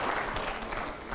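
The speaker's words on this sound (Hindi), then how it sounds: "जोरदार तालियां हो जाए जरा।" Studio audience applause breaking out on a live television panel show, a steady, dense roar of clapping hands that holds evenly throughout without any talk over it.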